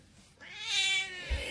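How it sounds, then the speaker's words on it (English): A cat gives a single drawn-out, rising then falling meow, close and clear, with a faint soft bump just after it ends. "Singing cat, are you ready, Tinker?"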